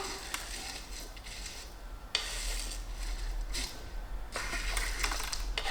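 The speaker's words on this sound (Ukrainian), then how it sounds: "чайник в мене маленький, я обережно туди зсипаю" Dry, granular pattering and light rattling as loose Sheng Pu-erh tea leaves are tipped into a small teapot in short bursts, close and fairly quiet.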